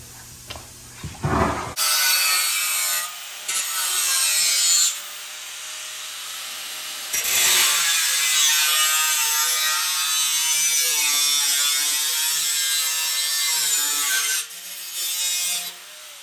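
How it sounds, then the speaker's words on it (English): Power saw cutting through the bottom rails of a restored metal bumper on a rotted-bumper repair, loud steady rasping in long bursts with short pauses between cuts, close by. "Only thing I need to do is cut these bottom rails and we're done and out of here."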